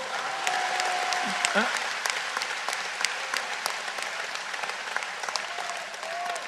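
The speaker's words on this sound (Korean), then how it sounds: "박수나 한번 쳐봐요" A church congregation clapping at a prayer-retreat healing service, a steady wash of many hands sustained throughout, with faint voices mixed in beneath the applause.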